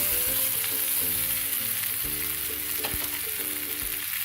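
Oggarane masala rice being tossed into hot seasoning in a pan gives a steady, close frying sizzle with scraping stir sounds, continuous for a few seconds with no talking.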